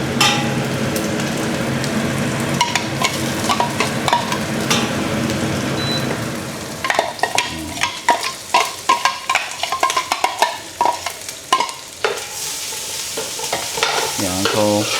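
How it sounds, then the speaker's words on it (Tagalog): Garlic sizzles in a hot pan while a spatula stirs it toward golden brown, a steady frying hiss broken by quick scraping strokes and clinks; no one speaks. "So tayo lang din natin until mag-golden brown yung ating garlic."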